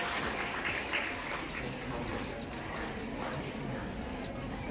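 Loud, steady applause from an audience at a felicitation ceremony for SSLC achievers at a government school in Lakshmipura, dense clapping running unbroken throughout with voices mixed in.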